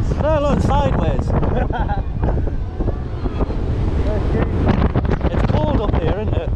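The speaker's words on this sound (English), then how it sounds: "It's quite windy." Strong wind buffets the microphone on a spinning fairground ride at Flamingo Land, a loud, constant roar mixed with people talking and calling out over it.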